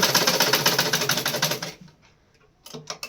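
A sewing machine stitches a blouse in a steady, fast run of close, loud mechanical ticks for well over a second. It then stops, leaving near silence, and a few short bursts of stitching and handling clatter follow.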